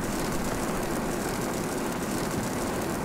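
An aircraft engine in the World of Warplanes video game drones steadily, a dense, even roar with no pauses and no voices.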